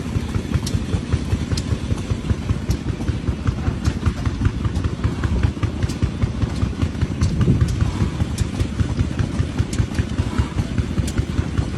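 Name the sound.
17-horsepower Ruston Hornsby engine running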